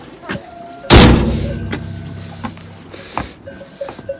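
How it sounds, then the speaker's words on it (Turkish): A door slams shut with a single loud bang in a village farmyard, followed by a rattling decay and a few faint knocks and clatters afterward. "niye kapıyı kapatıyorsun?"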